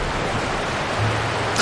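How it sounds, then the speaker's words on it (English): A steady, even rush of falling water from a waterfall in the video game The Outer Worlds, heard close and continuous with no voices. "let's go up here to the waterfall."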